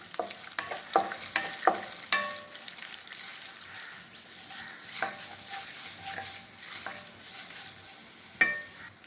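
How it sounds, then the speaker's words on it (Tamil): Asafoetida, cumin, urad dal and chana dal tempering in hot oil for bisibelabath: a steady close sizzle broken by sharp, irregular spoon clicks and scrapes against the pan, with no talking. "பெருங்காயம் ஜீரகம் உளுத்தம்பருப்பு கடலைப்பருப்பு இதெல்லாம் நல்லா தாளிச்சுக்கணும்"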